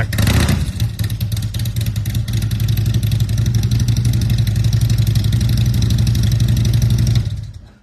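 Motorcycle engine revving hard and steadily for several seconds, a loud close rasping roar with rapid clattering pulses, then cutting off abruptly at the end.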